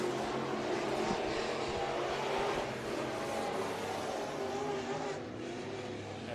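IMCA Sport Mod race cars running a heat race at Bakersfield Speedway, engines roaring steadily at a distance with a broad, continuous mechanical drone that dips slightly near the end.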